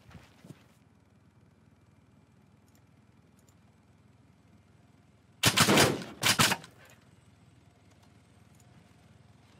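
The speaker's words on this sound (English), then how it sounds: "Oh, I hear another silencer to my right." Silenced gunfire in Arma 3 Wasteland, two short loud bursts of suppressed shots close together against a quiet background, with faint clicks earlier.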